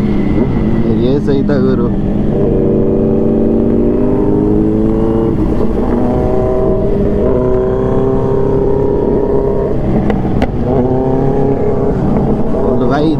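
Kawasaki Z900 motorcycle engine in a street setting, a loud steady droning rumble whose pitch climbs and dips through throttle changes, with a brief shouted voice partway through.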